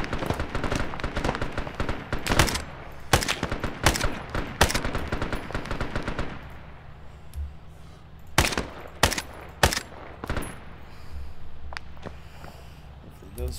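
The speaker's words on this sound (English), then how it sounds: "that's a guy shooting me right now" Enemy gunfire in the military shooter Arma with the ALiVE mod, sharp loud bursts of rifle and machine-gun shots cracking repeatedly in clusters, some close and heavy, others spaced out.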